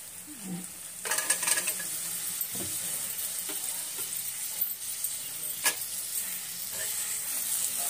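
Cooking in a pan with a steady close sizzle and hiss, broken by spoon scrapes and stirring knocks, with a brief murmur of voice near the start.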